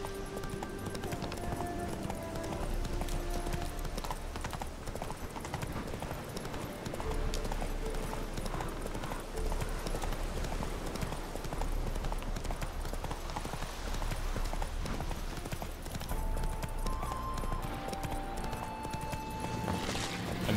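Geralt's horse Roach gallops in The Witcher 3, a continuous rapid clip-clop of hooves held at a steady rhythm for the whole stretch, with faint game music underneath.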